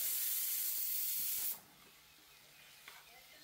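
Boiled, mashed potato masala sizzles in a pan with a loud, steady hiss for about a second and a half, then drops suddenly to a faint, quiet background.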